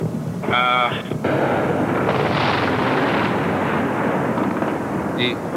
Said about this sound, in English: explosions coming down, large explosions.